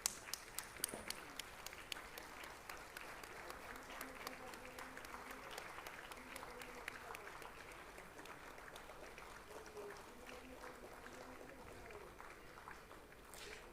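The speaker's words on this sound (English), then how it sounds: "let's keep the applause going as we have our chief guest" An audience claps steadily through a formal ceremony welcoming a chief guest, a dense, even spatter of hands held at moderate distance while a voice speaks over it through an amplified address.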